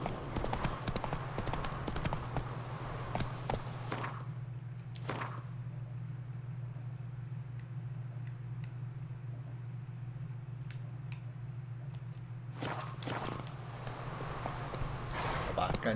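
Horse hooves clip-clopping steadily from the mount in The Witcher 3 video game, a continuous rhythmic beat at moderate distance over a low ambient hum, with brief louder bursts near the start and end.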